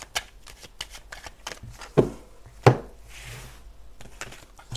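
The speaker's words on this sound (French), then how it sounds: "on va aller tirer 9 cartes" Tarot cards are shuffled by hand before a spread of nine is drawn. Close, crisp riffles and shuffles come in quick bursts, broken by two sharper taps of the deck against a table.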